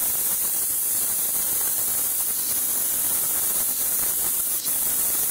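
Airbrush emitting a steady fine spray of paint, a continuous close hiss with no breaks across the whole stretch.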